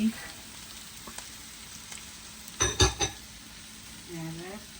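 Vegetables fry in a pan for chicken kothu parotta, a soft steady sizzle broken by a short burst of loud scraping and clattering stirring strokes midway, with a faint voice near the end.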